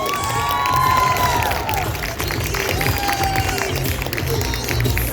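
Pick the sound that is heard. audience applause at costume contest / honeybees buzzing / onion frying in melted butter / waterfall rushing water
audience applause at costume contest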